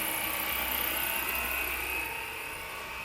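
A Fly Wing UH-1 Huey scale RC helicopter flies nearby with a steady, loud electric whine and rotor hum, holding constant with a slight fade toward the end and no talking.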